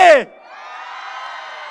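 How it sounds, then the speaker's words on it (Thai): Crowd cheering and applause at an outdoor political rally in Hat Yai, Songkhla: a short shouted voice gives way to steady, broad crowd noise that holds at moderate volume. "ขอเสียงปรบมือให้น้องสาวผมคนนี้"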